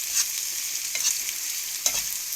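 Egg cooking in a frying pan for breakfast, a steady close sizzle and crackle with a few brief sharper pops, no talking.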